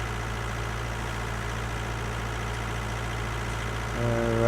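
A tractor engine runs in the farming game Farming Simulator 19 with a steady, droning low hum at a constant level. A slightly louder rumble joins near the end.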